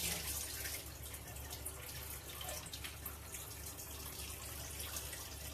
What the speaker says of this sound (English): I'm going to throw away the dirty water now